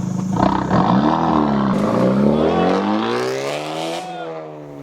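A car accelerates and drives away, its engine note rising in a loud, continuous roar that shifts upward in pitch as it pulls off, with no talk over it.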